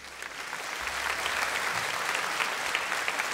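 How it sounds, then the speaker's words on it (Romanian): An audience at a Christmas carol concert in the Romanian National Opera applauds loudly and steadily, a dense wash of many hands clapping throughout without letting up. "vreau să-l primiți cu aplauze"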